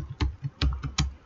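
Keys clack on a computer keyboard in a short burst of about four or five close, crisp taps at an uneven typing rhythm.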